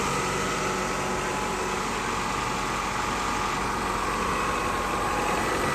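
A car engine idles during an AC refrigerant recharge, a steady broadband hum and whir that stays constant and loud from start to finish, with no talking.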